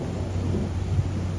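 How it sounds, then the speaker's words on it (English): Thunder rumbles low and steady through a stormy night beside the Amazon, with 50-knot wind gusts around a cruise ship's returning tender; a continuous heavy roll with no voices. "As you can hear by the lightning,"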